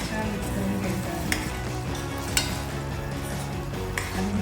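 Finely chopped tomato and vegetables sizzle steadily in hot oil in a pan while a spoon stirs, with a few sharp clinks of utensil against metal.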